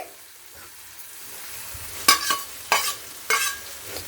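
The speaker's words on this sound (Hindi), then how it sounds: "अब हमने जो प्याज और हरी मिर्च सालू फ्राई करके रखा हुआ था उसे डाल देंगे।" Pre-fried onion and green chilli tip into a hot pan for a besan curry, bringing a soft sizzle followed by three sharp, loud scraping stirs spaced evenly across the clip, with no voices.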